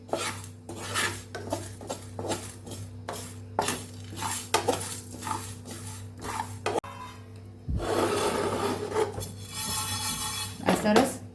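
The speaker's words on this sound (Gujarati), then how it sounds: "સાવ ધીમા ગેસ ઉપર આપણે આને શેકીએ છીએ" Grated raw mango being dry-roasted and stirred in a pan over very low gas for a Gujarati lachha pickle, with repeated metallic scraping and clinks of a spatula against the pan and a steadier rasping stir later, close and fairly loud.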